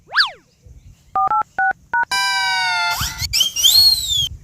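A mobile phone is dialed: a quick rising chirp, then a handful of evenly spaced twin-tone keypad beeps, followed by a long steady tone and warbling electronic squeaks, close and clear with no talking.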